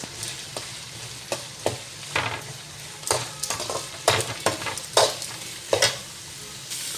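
Chopped dried onions fry in a pan with lentils, ginger and garlic for mango rice, a soft steady sizzle broken by repeated scraping strokes of a spoon stirring, close and without talk.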